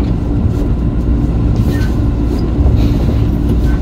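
An Indonesian KRL commuter train, a JR 205 series unit on the Solo–Yogyakarta line, rolls toward a station, heard from the cab as a steady low rumble of running gear with faint squeals and no talk.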